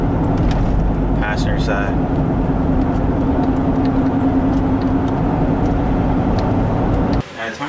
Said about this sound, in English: we do have a wheel bearing starting to rumble